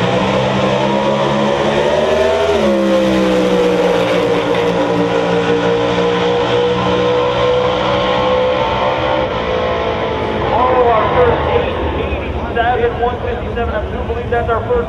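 Drag race cars, including a naturally aspirated 2005 red Firebird 427, roar loudly down the strip, engines climbing through gears with a sharp shift near the start and another later, under an announcer's commentary.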